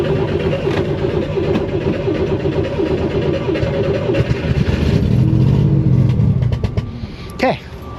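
An old car that had been sitting a while, flooded with throttle body cleaner, cranks and briefly catches and revs before dying. The engine is near and loud under a person's talk, ending in a short sharp burst.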